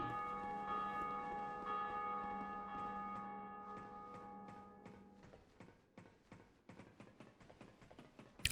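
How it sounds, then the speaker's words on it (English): A large bell in Dark Souls 2 rings out with a long, resonant tolling tone that slowly decays, then gives way to a run of quieter rhythmic clicks and taps. "We're going to pull this bell."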